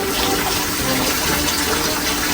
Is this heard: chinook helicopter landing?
no